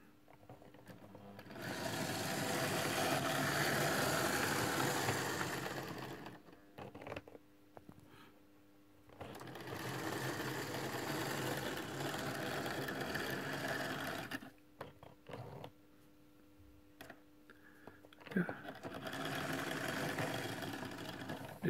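Sixty-year-old Piko East German model locomotive, an SNCF CC-7001 electric, running on track with a steady motor whir and rail hum that rises and fades in passes, separated by short quiet gaps, close and alone.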